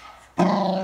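A dog growls close by, a low, rumbling, sustained snarl that starts abruptly after a brief quiet moment and holds steady to the end.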